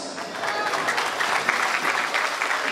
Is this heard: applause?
yes